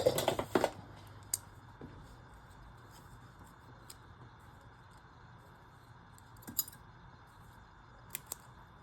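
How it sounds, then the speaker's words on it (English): Scissors cutting material in half for a handmade mixed-media assemblage art journal: a quick cluster of close snips at the start, then a few sparse, isolated quiet snips, with no talking. "is I want to cut this in half."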